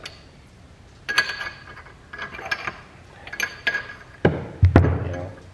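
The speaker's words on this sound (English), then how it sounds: "Go ahead and chuck this up in our vise." A steel LS connecting rod is clamped into a bench vise fitted with aluminum angle jaw covers, giving a few close metallic clanks and scrapes and then a heavier clunk near the end, with no talking.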